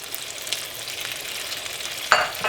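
A sauce simmering with oregano and rosemary is stirred in a pan, with a soft continuous sizzle and a sharp scrape or clink of the utensil near the end, and no talking.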